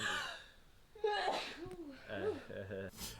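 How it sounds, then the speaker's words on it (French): A single person's sneeze, close and clear, with a quick intake of breath and a burst, amid murmured talk and voiced sounds around it. "Ah, j'ai éternué."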